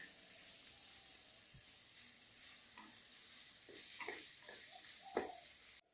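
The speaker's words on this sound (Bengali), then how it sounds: "দিয়ে আমায় এখন এগুলো ভালো করে ভাজতে হবে এখন খানিকক্ষণ ধরে।" Sliced onions with ginger-garlic paste frying in a pan for a Bengali prawn malai curry, a faint steady sizzle with a few soft stirring scrapes and clinks toward the end.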